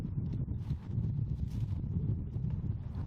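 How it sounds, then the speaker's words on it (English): Wind gusts buffet the microphone outdoors at an archery range, a low, steady rumble with fluttering bursts, fairly faint and with no talking. "Wind's blowing me around real bad."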